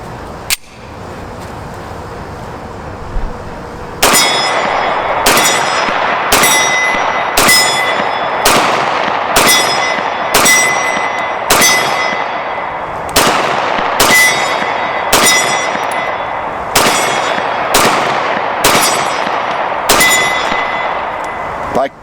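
A PA State Police Beretta 96 pistol in .40 fires 9mm rounds from an 11-round .40 magazine: about fourteen loud, sharp, evenly spaced shots ring out at close range with metallic clangs.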